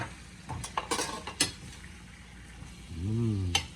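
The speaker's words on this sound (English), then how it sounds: "goes the organic whipping cream and the Parmesan. Mix that up a little bit." Whipping cream and Parmesan being stirred in a pan, with scattered utensil scrapes and clinks against the pan over a low simmering hiss, followed by a brief low hum near the end.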